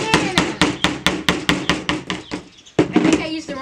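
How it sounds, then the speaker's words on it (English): Rapid hammer strikes on a nail at a DIY bird feeder build, about a dozen sharp evenly spaced blows, a short pause, then a few more hits, close and loud. "Sorry, it's a hammer."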